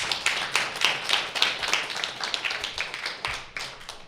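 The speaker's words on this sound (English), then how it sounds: "Give her a round of applause as she comes up." A small audience claps as a participant comes up, a series of distinct, rhythmic hand claps close by, with a little scattered clapping in the background.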